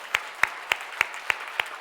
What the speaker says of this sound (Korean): 다 일어나시면 저희가 함께 축복하며 또 감사하는 박수, 격려의 박수 하도록 하겠습니다.